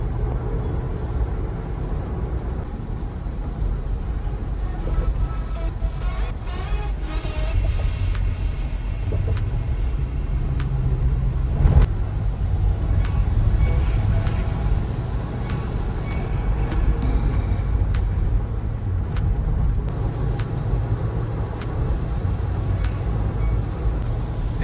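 A car drives on the expressway near the exit, with steady engine and tyre rumble and road noise throughout, plus a brief louder knock partway through, heard from inside the vehicle with no talking.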